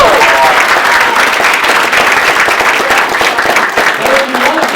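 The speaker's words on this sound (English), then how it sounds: "Let's give a round of applause for your leaders." A large audience at a business event breaks into sustained, dense applause, loud and continuous throughout with a faint voice briefly audible over it.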